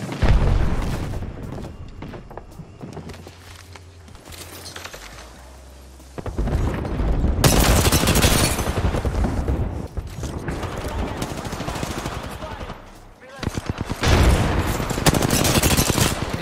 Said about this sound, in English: Airstrike getting close.